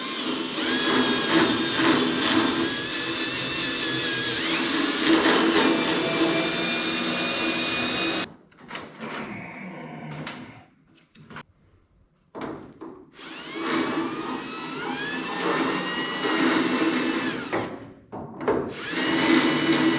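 A loud power drill whines steadily with pitch shifts as it bites in, drilling out old door hinge bushings on a 1965 Dodge Coronet 500, drops out briefly for a few seconds, then starts up again and runs on.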